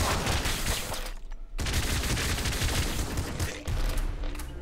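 Enemy gunfire in the video game Nuclear Throne crackles in dense rapid bursts at close range, loud harsh volleys that stop briefly and then resume in continuous chattering fire.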